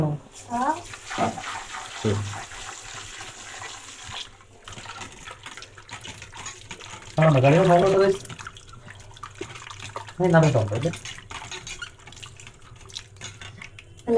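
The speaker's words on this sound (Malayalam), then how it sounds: "അങ്ങനെ നമ്മൾ ഞാവൽപ്പഴം കഴുകാൻ പോകും" Water runs from a tap while jamun fruit is washed, a steady wash of flow with louder splashing bursts as the fruit is rinsed under the stream, and a person speaks in between.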